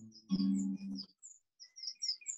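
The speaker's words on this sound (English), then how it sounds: "Can you hear that little bird singing?" A small bird sings high, thin chirps and short trills in bursts, with a low machine-like hum underneath early on and quiet gaps between phrases.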